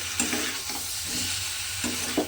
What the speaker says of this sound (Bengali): দিয়ে এবার সমস্ত কিছু খুব ভালোভাবে মশলার সঙ্গে কষিয়ে নিতে হবে।